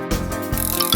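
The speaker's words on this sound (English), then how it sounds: "Cycle." A bicycle gives off a short mechanical burst of ratcheting freewheel clicks and gear whir, close and brief.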